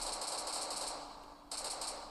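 Rapid automatic gunfire from an M56 rifle in a video game crackles in a fast, dense burst, pauses briefly, then resumes; a continuous rattling stream of shots with no voices.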